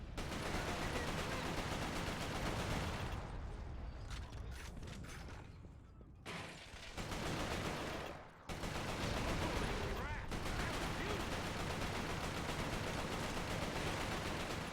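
Sustained gunfire in the video game Resistance: Fall of Man, continuous mechanical rattling fire with brief gaps around the middle before the shooting resumes at full intensity.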